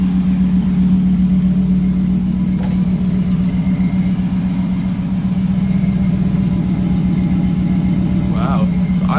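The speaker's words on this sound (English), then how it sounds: "It's idling very smooth." F-Body Chevrolet Camaro engine idling smoothly in neutral with the e-brake up, a loud, steady low rumble throughout, close to the car.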